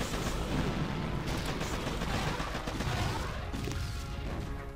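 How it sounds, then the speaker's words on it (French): Dense game gunfire and crashing impacts from a small machine gun, continuous loud bursts and booms throughout with no clear pauses, in a heavy battle scene. "Et ensuite je tire, regardez bien. Je tire d'un coup"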